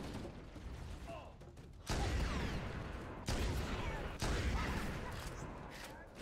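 Enemy gunfire returning fire in the video game Halo CE, heard as loud bursts of rapid shots that cut in abruptly in three separate volleys over a quieter mechanical background.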